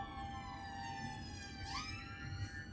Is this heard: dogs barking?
no